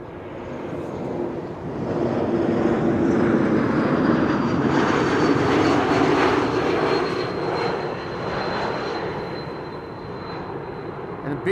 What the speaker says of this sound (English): This is KLM flight 1570, E2 Embraer 195, arriving from Porto in Portugal.